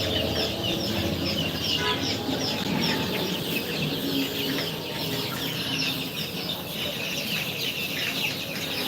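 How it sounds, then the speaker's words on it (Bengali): A flock of month-old Fayoumi chicks feeding at a poultry farm and hatchery, with steady overlapping chirps and clucks filling the background throughout. "দেখতে থাকুন ফাউমি মুরগির এক মাস বয়সের বাচ্চাগুলো দেখুন এরা খাবার খাচ্ছে"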